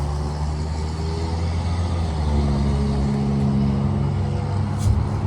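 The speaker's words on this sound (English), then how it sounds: "If y'all can hear that little truck that went down the street" Small truck driving down a street beside a park, its engine a steady rumble passing close by, with no talk over it.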